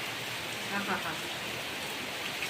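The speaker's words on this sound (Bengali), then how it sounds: "এই যে বৃষ্টি হচ্ছে" Steady rain falls, producing an even, moderately quiet hiss of drops striking surfaces that continues without a break.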